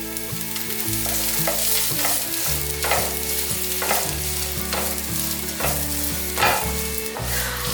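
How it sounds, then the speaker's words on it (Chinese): Ginger slices and carrots being stir-fried in a hot pan, a loud continuous sizzle with repeated scraping strokes of the spatula, close up, with no talking. "炒到姜片的周围有变成金黄色了之后，就可以放入红萝卜。"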